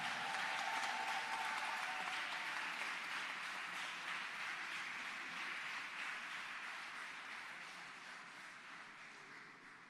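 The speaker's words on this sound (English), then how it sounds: "A round of applause once more for the advisors, ladies and gentlemen." Dense, steady applause from the audience at a Governor General's Medal of Honour presentation ceremony, a broad wash of many hands that starts strong and slowly tapers over ten seconds, with a faint murmur behind it.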